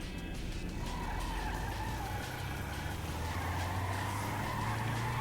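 Bravado Youga van with extremely lowered suspension drifting in GTA 5 Online, a continuous loud tire squeal over a steady engine drone that rises slightly in pitch toward the end.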